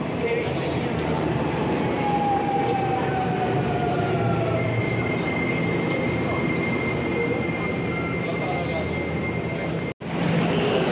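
Steady rumble of a local train running from Shibuya toward Narita, with wheel squeal, whining motor tones and continuous rolling noise heard from inside the car, briefly cut near the end.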